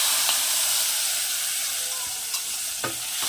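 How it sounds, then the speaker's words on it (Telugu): Tempering of curry leaves and spices poured into palak dal sizzles with a steady, bright hiss, with a few faint clinks of stirring. "పప్పులో ఈ తిరువాత వేసేద్దాము."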